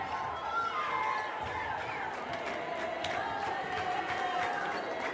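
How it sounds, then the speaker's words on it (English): Spectators at a women's volleyball match chant a sustained, melodic Olé in unison, a steady rising-and-falling crowd song with scattered claps and shouts. "you can hear the Olé chants, usually attributed to Les Canadiens de Montréal"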